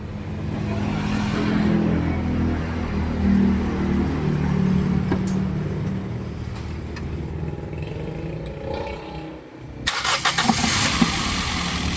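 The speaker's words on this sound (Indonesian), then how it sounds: "Sekarang kita testing, kita nyalakan mesinnya." A Toyota Yaris engine cranks and catches, then idles with a low, uneven, shaky rumble; partway through it revs up louder, close by.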